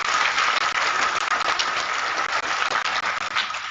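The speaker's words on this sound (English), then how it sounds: "Clap for them, please." A gathered congregation at a NAFRC padre hour claps for the IT department, a sustained, somewhat muffled roll of many hands applauding without voices.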